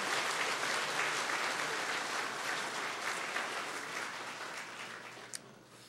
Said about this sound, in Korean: 박수 한번 쳐드리시길 바랍니다